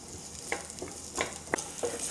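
Small cubes of yam frying in a pan over medium heat, a soft continuous sizzle punctuated by several light scraping stirs close by.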